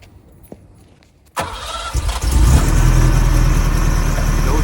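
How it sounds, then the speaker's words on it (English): A 1981 Ferrari 308 GTSi with a five-speed manual starts up after a quiet lead-in. The starter cranks briefly, the engine catches sharply, and it settles into a loud, steady, close idle with a slight rise in revs. "No trouble at all with that start, nice and clean, and sounds really healthy."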